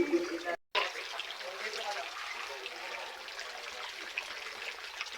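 Water streams and trickles steadily across a flooded, overgrown cemetery at Tala, a continuous broadband wash of flow with a brief dropout near the start, no clear talk over it.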